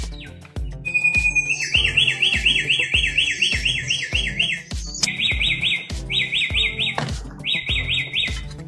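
A Flores kancilan sings loud and close, repeating rapid warbling phrases of high whistled notes in bursts with brief pauses, over a rhythmic background thumping.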